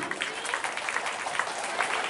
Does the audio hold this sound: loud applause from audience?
yes